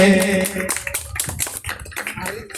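Audience applause at a bhajan singing competition in Silwani: a steady patter of hand claps from a crowd, loud and close, with some tonal music or announcement sound fading at the start.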